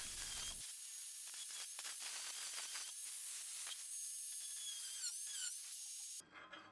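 Small rotary tool cutting triangle shapes into a metal axe head, a thin high-pitched whine with scratchy bursts and brief squeals, steady and close, stopping abruptly near the end.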